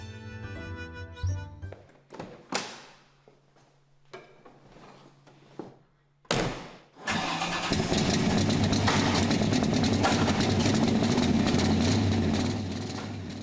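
A Corvette C2 Sting Ray, built 1963 to 1967, gives a few mechanical clunks and short bursts, then its engine catches and settles into a loud, steady idle for several seconds.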